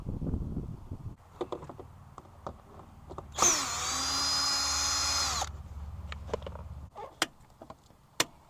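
A cordless drill whirs in one close burst of about two seconds while working on the fuel pump relay of a 1997–2001 Honda CR-V, with small clicks and handling noises before and after.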